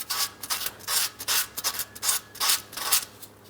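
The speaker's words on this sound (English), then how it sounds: "I'm going to be using some fine sandpaper here." Fine sandpaper scrubs the downstream O2 sensor mounting port of a 2008-2016 Chrysler Town & Country 3.8, a close, rhythmic series of short hissing strokes about three per second, with no voices.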